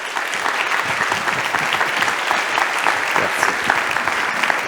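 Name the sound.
audience applause welcoming speaker on stage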